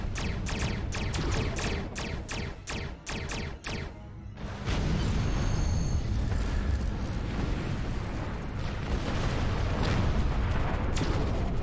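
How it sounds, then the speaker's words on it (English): Torpedoes firing and exploding in the Star Trek Online video game: a rapid series of sharp blasts for about four seconds, then a sustained loud rumbling barrage of explosions, with no talking. "Use your torpedoes on an enemy when your shield is down. Torpedoes away."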